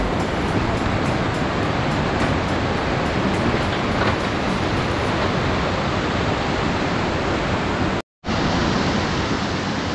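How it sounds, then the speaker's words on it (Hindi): Fast mountain stream rushing under a bridge on a rocky trek trail in the Uttarakhand Himalaya, a loud, steady broadband roar of water that continues unbroken, with only a brief dropout near the end. "आप ऊपर देख सकते हो बहुत तेज पानी आ रहा है।"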